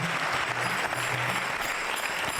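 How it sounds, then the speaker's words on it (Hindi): Audience at a Hare Krishna Mission quiz show claps loudly and steadily, a dense, sustained round of applause with no break. "जोरदार तालियां बजाइए"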